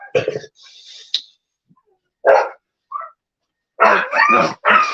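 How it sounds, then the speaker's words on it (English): Several sharp, excited dog barks break out in quick bursts, loud and close, separated by short silences and a brief higher yelp. "my dogs are going crazy"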